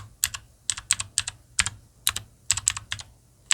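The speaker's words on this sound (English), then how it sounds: "you bought a mechanical keyboard. Use it. Use it like blah blah blah, like ASMR. Look how good they sound." Keys clack on a mechanical keyboard in quick, uneven bursts of two or three sharp strokes separated by short pauses. The typing is close and crisp over a faint low hum.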